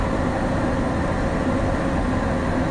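The Mohanagar Express pulls into platform one at Brahmanbaria station on a rainy night on its Dhaka to Chattogram run, a continuous loud rolling rumble heard from on board, with no voices.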